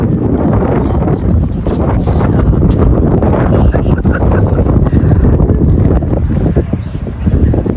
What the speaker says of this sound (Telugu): ఇక్కడ చూసారు కదా, విండ్ చాలా ఎక్కువగా ఉంది.